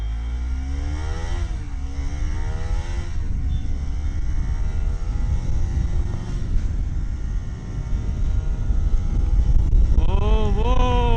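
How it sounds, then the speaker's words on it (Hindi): Bajaj Pulsar NS200 motorcycle engine running loud and close throughout, a steady rumble with rising and falling rev sweeps and a sharper rev climb near the end, with no speech. "तो आज हम करेंगे NS 200 का साउंड टेस्ट।"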